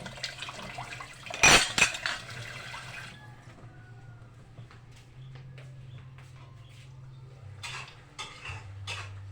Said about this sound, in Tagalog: Hugasan natin ang hugason.